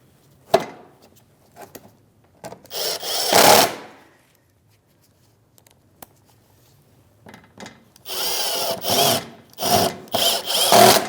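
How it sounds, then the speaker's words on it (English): Screws go into a Chevrolet Malibu front lower engine splash shield, driven with a 7mm socket in short scraping and whirring bursts, close up and separated by quiet gaps, with a longer run of driving near the end. "grab your screws with your 7mm socket and start install"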